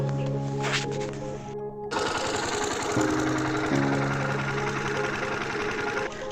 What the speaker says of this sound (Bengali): এবার জল দিচ্ছি মেশিন চালিয়ে দিয়েছি জল চলছে